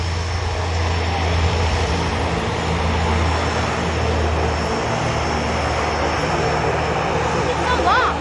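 Propeller airplane landing near Tofino, British Columbia, its steady engine drone holding loud and close throughout with a faint rumble underneath and people talking over it.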